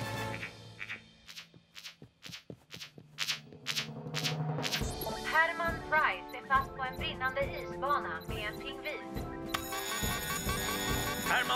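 A telephone rings in a cartoon rescue scene, trilling in repeated bursts over music, with a voice speaking as the ringing continues and a busier score taking over.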